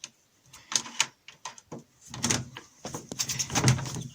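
A malfunctioning door at a venue's artists' entrance is worked open by hand, giving a close series of sharp clacks, latch clicks and rattling bursts with brief pauses between them.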